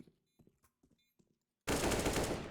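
An AK rifle fires in Counter-Strike, on the de_bakery map. Faint light clicks and footsteps give way to a sudden loud, sustained burst of close automatic fire.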